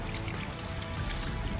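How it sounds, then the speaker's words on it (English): Dirty water pouring out of a rinseless car wash bucket, a steady, close splashing gush with no break over the short span. "let's get the water poured out"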